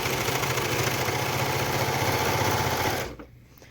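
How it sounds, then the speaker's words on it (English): Serger overlocking the edges of fabric for a sewn face mask: a fast, steady mechanical whirr that runs without pause for about three seconds, then stops abruptly. "now to finish my edges, I serge them real quick"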